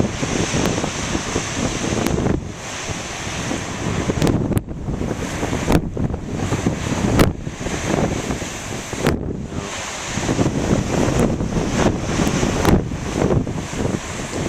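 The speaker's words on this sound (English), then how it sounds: "the wind is coming from the west now, so it's probably repelling the big waves" A steady west wind roars and buffets the microphone while big ocean waves surge and break continuously nearby, with a few sharp gusts cutting through.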